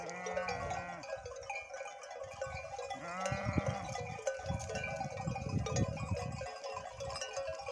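Several sheep bleat in a pasture, sending out repeated wavering calls at moderate distance over a busy outdoor background, with no talk.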